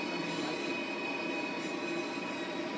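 Train wheels squeal steadily in a driving simulation of a 100-coach train running from Manchester Victoria to Leeds; a continuous, loud, sustained screech with no talk over it.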